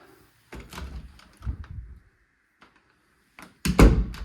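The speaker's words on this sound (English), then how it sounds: "Closet doors working fine." Closet doors in a house being inspected are opened and closed several times, giving a few sliding rumbles and soft thunks separated by quiet pauses, ending in a firmer knock.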